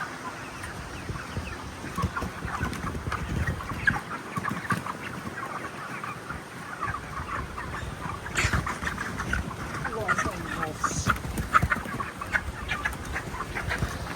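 Chickens on a poultry farm cluck and chatter in a steady, busy flock, with a brief rooster-like call partway through and constant barnyard background noise.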